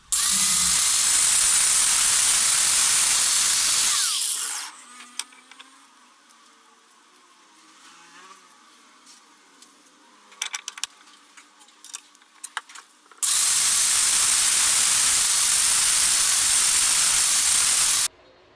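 A Makita M0910-series angle grinder grinds across a motor core, heard as two loud, steady bursts of high, harsh whine separated by a quieter stretch of faint clinks and handling noise, with no talking.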